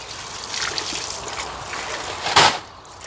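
Water pours and trickles down an outdoor drain during work on 110mm plastic underground drainage pipes, a steady splashing wash with a brief louder gush near the end.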